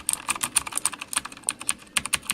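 Rapid typing on a VersionTECH backlit mechanical gaming keyboard with tactile switches: a brisk, irregular run of sharp, close key clicks with no talk.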